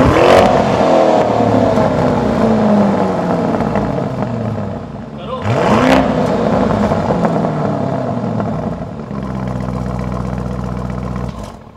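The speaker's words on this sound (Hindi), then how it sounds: "इसका एग्जॉस्ट नोट सुनाएंगे जो किसी भी स्पोर्ट्स कार को बीट कर देगा" A Lamborghini Urus SUV revs hard nearby, its exhaust rising in two loud sweeping bursts before settling into a steady, rumbling idle.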